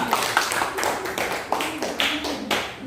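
Classroom applause from schoolchildren at the end of a lesson on magnets, a brisk uneven burst of claps with a voice speaking over it.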